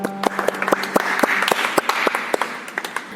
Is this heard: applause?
yes